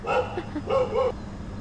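Several short, sharp dog barks in quick bursts, moderately close, over a steady background hum of traffic.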